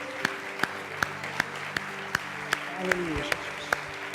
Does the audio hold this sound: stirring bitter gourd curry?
no